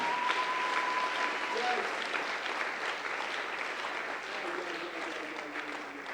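A church congregation applauding at a sermon, sustained broad clapping from a large crowd that carries on for the whole stretch, slowly easing in level, with voices mixed in.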